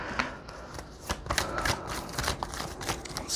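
A tarot card deck is riffled and shuffled in quick, crisp bursts of papery flicking and slapping, close and steady for a few seconds with no voices.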